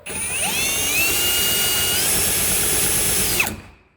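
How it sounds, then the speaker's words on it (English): A cordless power drill spins an alternator, whirring at high speed with a steady, whining tone for several seconds, then winds down and stops, loud and close. "So now I'm going to spin it up with my drill"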